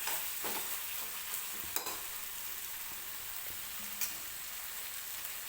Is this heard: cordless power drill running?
no